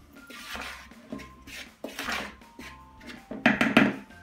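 A spoon stirs cake batter with baking powder and vanilla in a bowl, giving soft scraping and light clinks, with a couple of louder knocks near the end. No talk.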